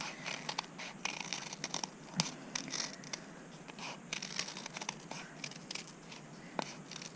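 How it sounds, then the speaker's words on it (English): Scissors cutting out shapes through eight stacked pieces of paper held together, producing repeated close crisp snips and crunchy paper rustles at an irregular pace, with no talk. "I'm just going to hold all of these pieces of paper together and cut them out so they're all roughly"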